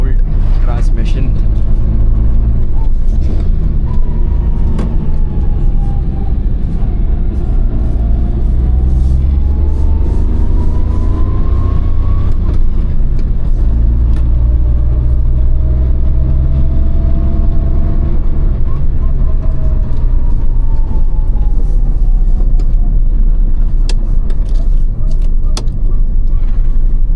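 A 27-year-old Maruti 800's small engine hums steadily while driving uphill, low rumble with gear changes shifting the pitch, and someone talking over it throughout.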